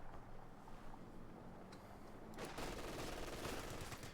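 Automatic fire from a Browning light machine gun mixed with mortar and artillery blasts in a Company of Heroes 2 battle, dense overlapping shots that grow louder and busier about halfway through, with no voices.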